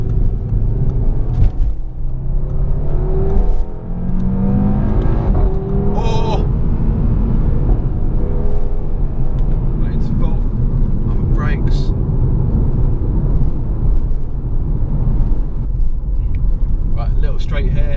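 An Audi TT RS engine drones and rumbles continuously from inside the cabin as it laps a track, rising and falling through gear changes, with someone talking over it.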